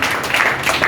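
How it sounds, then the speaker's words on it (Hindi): An audience at an RCM program gathering applauds in a dense, steady wash of clapping that runs unbroken and loud for the whole short moment. "जोरदार तालियां बजाएं आप लोग सभी लोग।"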